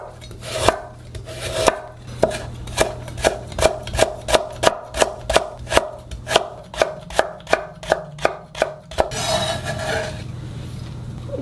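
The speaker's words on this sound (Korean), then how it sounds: "당근도 얇게 채 썰어서 조금만 넣을게요." A knife julienning carrot thinly on a cutting board, with a steady run of about twenty crisp, evenly spaced chops, close and loud, with a brief scrape at the end.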